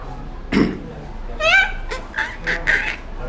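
A man imitates a parrot's squawky calls, a few short, harsh chirps and squeaks spaced over a few seconds, close to the mic.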